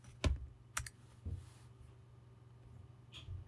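A single key press on a computer keyboard while working in an Excel spreadsheet: a few sharp, close clicks spread over a few seconds, with a quiet room between them.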